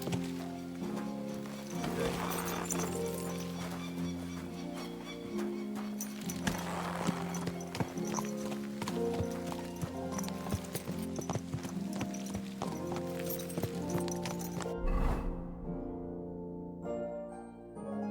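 Steady clip-clop of horse hooves over a busy Kingdom Come: Deliverance II soundtrack with music, continuing throughout, with a brief snort or whinny near the end.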